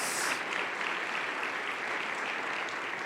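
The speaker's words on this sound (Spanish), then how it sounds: "Dale un fuerte aplauso al Rey de Reyes." Dense, sustained clapping from a church congregation during a Sunday sermon, a broad even wash of hands honoring the King of Kings with no voices on top.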